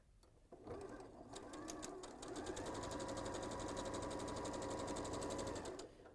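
A sewing machine runs steadily, chain piecing quilt triangles in one continuous stitching burst with a fast rhythmic whir, starting after a brief pause and stopping near the end.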